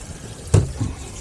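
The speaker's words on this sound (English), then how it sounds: "this is water being pumped into the live well from the outside" An aerator pump in a Bass Cat boat's triangle livewell pushes outside water through the top aerator bar, giving a brief gushing splash over a steady wash of water noise.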